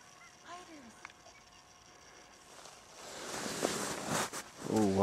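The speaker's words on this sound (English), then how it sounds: "Oh wow, there's some ducks." Ducks call in a few scattered honking quacks early on, then a louder burst of quacking near the end, heard over an outdoor hunting setting with wind and movement noise building midway.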